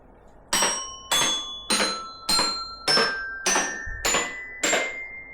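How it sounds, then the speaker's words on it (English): A single bell struck eight times at an even pace, each ring bright and clear with a quick attack and a short decaying shimmer, close and loud with no talk. "It sounded like one bell got hit twice."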